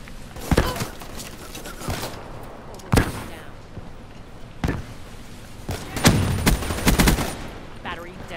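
Rifle fire from the HVK 30 assault rifle in Call of Duty Black Ops 3, heard as several loud, sharp bursts of rapid gunfire spread across the clip with brief pauses between them.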